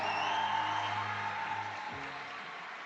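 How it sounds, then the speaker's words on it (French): Audience applause at a public ceremony honoring a dignitary, a steady broadband wash of many hands clapping that slowly fades, with a low hum underneath. "Sous vos applaudissements mérités."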